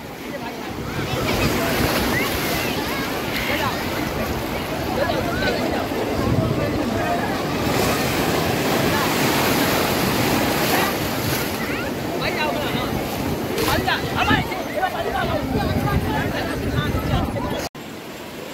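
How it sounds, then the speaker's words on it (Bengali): Ocean surf at Puri beach rolls in with a broad, loud wash and heavy wind buffeting the microphone, while a person talks over the waves. "ঢেউগুলো আসছে দেখো কত সুন্দর"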